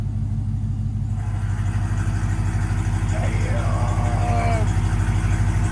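A Demon-swapped Jeep Gladiator with headers and valved exhaust, valves open, rumbles at a deep, loud, steady idle with a constant low throb and no distinct rev; voices are faint beneath it.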